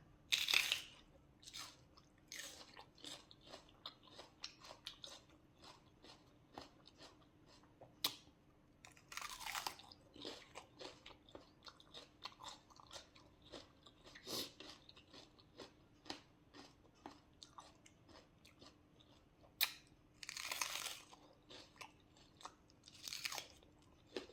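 Crunchy chewing and biting of spicy green papaya salad, close and steady with many sharp crisp bites repeating throughout, alone without talk.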